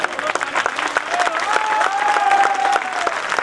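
Applause from an audience at a Hindi poetry recital, a thick spread of clapping with a sustained tone drifting over it and crowd murmur underneath, fairly loud and continuous.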